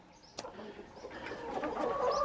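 Hens clucking and murmuring close by, a sharp rooster-like call near the start, the clucking growing busier and louder toward the end.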